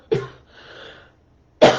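Two sharp, close coughs, separated by a brief breathy rasp of throat clearing.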